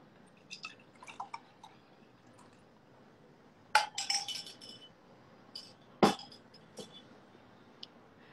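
A drink of water from a glass, with faint clinks of the glass and soft liquid sounds, two sharper knocks of the glass against a hard surface, quiet between.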